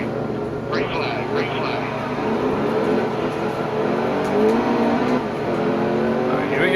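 Race trucks roar off the green flag at Charlotte Motor Speedway in NASCAR Heat 2's Camping World Truck Series, a steady loud engine drone with rising revs, while a voice talks over it.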